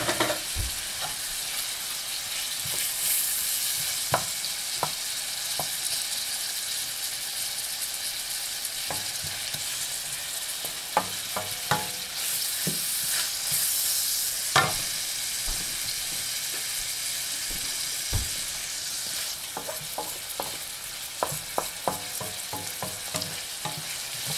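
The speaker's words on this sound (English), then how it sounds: "Because it's sizzling and you're sauteing it" Zucchini sizzles steadily in a hot pan while a utensil stirs and scrapes now and then, close up with no talking.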